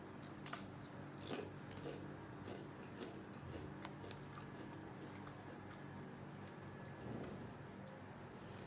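Someone bites into a very long, thin baked potato chip and chews it, giving faint, close, crisp cracks and crunches at irregular intervals over a quiet room.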